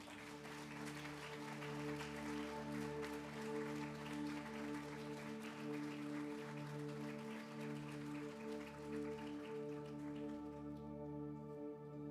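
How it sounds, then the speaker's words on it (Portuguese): A church congregation claps in a steady wash of applause, continuous and moderately distant, with sustained music tones underneath throughout. "Quero convidar você a aplaudir Jesus, o Senhor."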